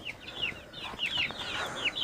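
Chicks cheep in a steady chorus of high, falling peeps, with a few clucks mixed in; no one speaks.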